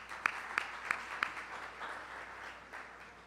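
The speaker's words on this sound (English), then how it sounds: "let's give her a round of applause" Small gathering at the DC Central Kitchen site giving faint, scattered applause for a neighborhood commissioner: a handful of distinct claps up front, then a soft, thinning patter.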